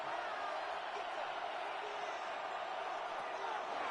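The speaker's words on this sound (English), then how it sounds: "This crowd into it now as we get to 3rd down." A football stadium crowd roars steadily on third down in a BFL game, Chargers versus Vipers, a dense distant wash of cheering without breaks.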